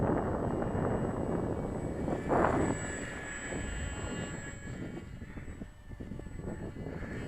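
A small RC model airplane flies a circle in gusty wind, its engine a steady buzzing drone that is partly covered by rough wind noise hitting the microphone, with a brief swell as it passes.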